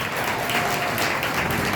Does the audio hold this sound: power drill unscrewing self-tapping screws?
no